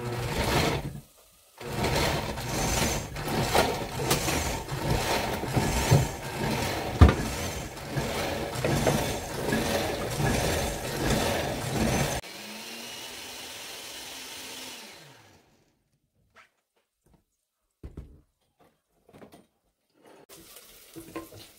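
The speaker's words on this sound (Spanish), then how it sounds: "Y vamos a moler." A blender grinds sauce ingredients with a small clove of garlic, a loud, rough motor whir that runs for about twelve seconds, then drops to a lower hum and spins down into quiet with a few faint knocks.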